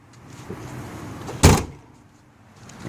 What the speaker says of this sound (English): And we're going to shut the doors here.